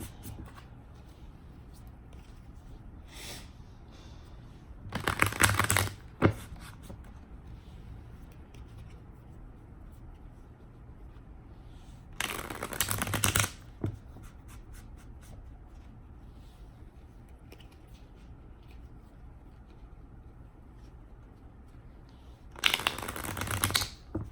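Tarot cards being shuffled in three separate bursts of riffling and rustling, close to the mic, with quiet pauses and faint shuffling between them.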